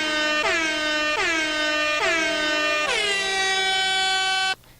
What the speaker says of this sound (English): okay, so we have our sad air horn